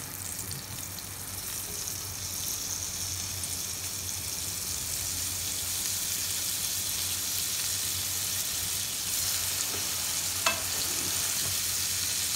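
Paneer cubes fry in a pan with Kashmiri red chilli powder, giving a steady, close sizzle that holds evenly throughout, with one brief utensil clink near the end and no talking.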